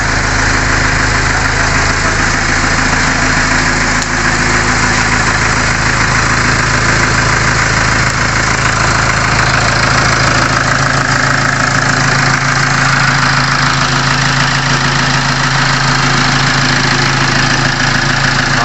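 A 2011 Kia Sorento with automatic transmission idles steadily after starting, a loud, continuous mid-pitched engine drone with a faint knocking rattle running alone throughout.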